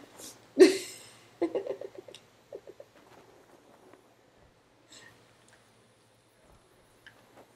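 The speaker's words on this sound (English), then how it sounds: "And so naturally I chirp into that corner." In the snow level of the video game Journey, the player character chirps. One loud, sharp call is followed by several softer tonal chirps, scattered over a quiet background.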